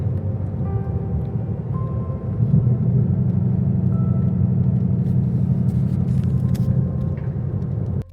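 Car driving along a small-town Midwestern road, a steady close engine and tyre rumble from inside the cabin, lasting throughout and cutting off abruptly at the end.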